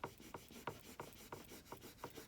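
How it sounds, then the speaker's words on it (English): A rubbing stick is pressed firmly over a decor transfer, making quiet, close, rhythmic scraping strokes about three per second, with no voices. "you have your little stick, your rubbing stick, and you just rub this"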